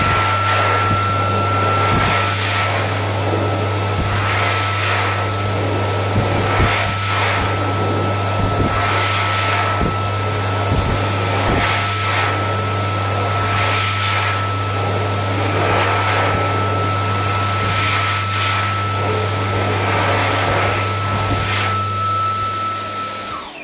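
A Dyson 9KJ hand dryer blows steadily in a UK disabled restroom, a loud continuous whoosh with a low motor hum and a high whine that runs unbroken for over twenty seconds.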